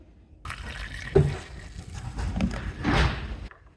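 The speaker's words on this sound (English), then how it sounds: "just go ahead and pour some windshield washer fluid in until it's full" Windshield washer fluid being poured from a jug into a car's reservoir, giving a few seconds of gurgling, splashing liquid with some plastic knocks, close and moderately loud, ending abruptly.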